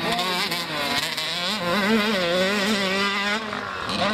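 Motocross motorcycle engines are warmed up at a race, loud and close, with a continuous high buzzing drone that rises and wavers as the throttle is blipped.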